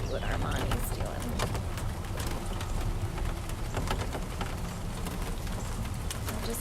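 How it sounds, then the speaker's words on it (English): Rain falling during a morning drive by cart at Big Cat Rescue, a steady broadband patter with scattered sharp taps of drops, heard under nearby talking. "you can hear it's raining"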